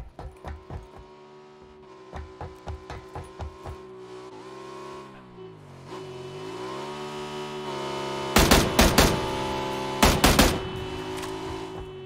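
A car engine in Battlegrounds revs and drives, its steady drone rising and falling in pitch. Several loud, sharp bursts cut in near the end.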